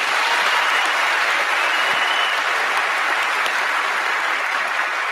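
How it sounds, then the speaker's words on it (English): Steady, dense applause from a crowd at a Prince Harry speech during the ESPY Awards, sustained and fairly loud throughout with no voices over it. "So obviously, bit of applause."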